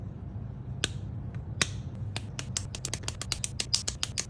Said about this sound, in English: you like the chocolate snapping sound